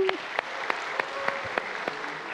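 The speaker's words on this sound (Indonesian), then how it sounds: "Tepuk tangan." Applause from the audience at a graduation ceremony for a 2021 class of young farmers in West Java, a steady patter of clapping with a few sharper claps standing out and a brief voice at the start.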